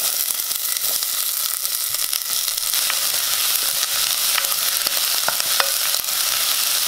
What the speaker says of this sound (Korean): 이렇게 마늘이 갈색이 나도록 구워졌으면은 이제 양파부터 넣겠습니다